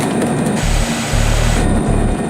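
A police aircraft engine starts up and settles into a loud, steady low drone with a rhythmic pulsing, heard close and alone.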